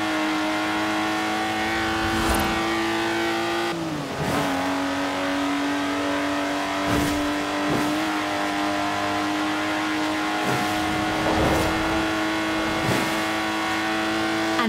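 A Lotus Exige engine in the Forza Horizon 4 racing game drones loudly and continuously, revving and shifting through gears with brief dips, close and dominant with no talk.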